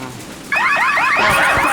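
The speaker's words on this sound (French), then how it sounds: "L'alarme de la couveuse." An incubator alarm in a cartoon sounds in a run of repeated, loud electronic beeps, rising sweeps recurring about every quarter second, then a denser warbling tone layers in, with no talk.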